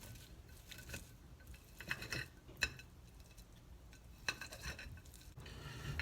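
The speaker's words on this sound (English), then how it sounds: "we're just gonna cut this up till it's real thin" A knife chops cooked chicken breast, fresh off a George Foreman grill, into thin stringy pieces on a board for buffalo chicken dip; faint, irregular taps and clicks, close but quiet.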